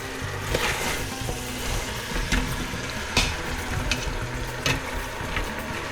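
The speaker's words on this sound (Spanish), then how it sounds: "Vamos un poquito a revolver todo esto." Uzbek plov cooks over lowered heat in a home kitchen pot and is stirred: a soft, steady sizzle runs throughout, with a few brief scraping and clinking strokes from the spoon, fairly quiet and with no voices.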